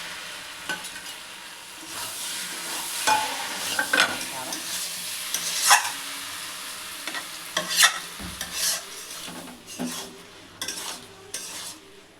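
Fried pointed gourd and potato pieces being stirred into a pan of spiced sauce with salt, sugar, turmeric and chili, giving a continuous sizzle with repeated scraping and clinking of a spatula against the pan, close and alone.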